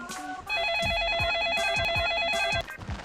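A telephone rings with a warbling electronic trill lasting about two seconds, with soft thumps and faint movement around it.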